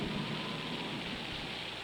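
Steady rain falls during a storm in chimpanzee habitat, a dense, even hiss with a low rumble beneath it that continues throughout.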